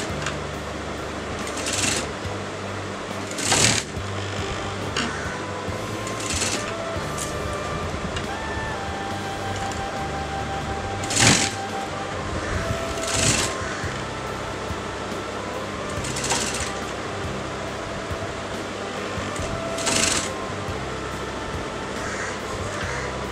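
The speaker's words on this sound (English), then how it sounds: "So just fold that in and I'm going to stitch that together." Sewing machine stitching folded fabric together, a steady mechanical whirr running throughout with several short louder bursts of stitching spaced every few seconds.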